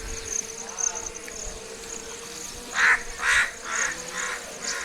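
Several crow caws ring out in a row, moderately close, at the Bhavnath Mahadev temple, over a steady background of insect buzzing and faint birdsong.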